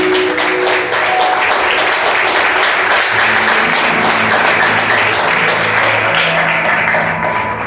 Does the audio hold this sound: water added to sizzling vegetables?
no